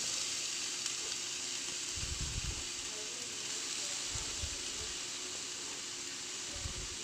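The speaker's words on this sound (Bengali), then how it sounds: "ফ্রাই প্যানের মধ্যে আমি নারকোলগুলোকে দিয়ে দিচ্ছি" A steady, faint sizzle of grated coconut frying in a pan, with a few soft scraping stirs breaking through the hiss.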